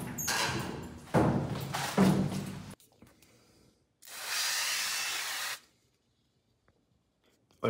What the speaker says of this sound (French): ça faisait super longtemps que je cherchais une huile directement en spray